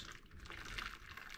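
Hot water running from a tap to soak liver, a faint continuous splashing hiss that stays steady throughout with no talking.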